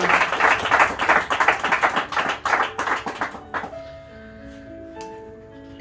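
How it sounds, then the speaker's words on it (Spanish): A church congregation claps loudly together for about three and a half seconds, a dense burst of hand claps that then stops abruptly, leaving a soft sustained keyboard or organ tone underneath. "Dale un fuerte aplauso a esta palabra."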